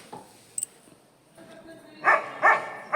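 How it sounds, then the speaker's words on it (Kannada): A dog barks three times in sharp, loud bursts near the end, following quieter ambient outdoor noise on a roadside trip near a temple, with no talk during the barks. "ನಾಯಿ ಅಂತೂ ಒದರ್ಲಿಕ್ಕತ್ತದ"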